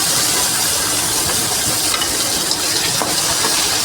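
Steady loud sizzling and hissing of chopped tomatoes sautéing in a hot pan, continuous throughout with occasional faint stirring scrapes.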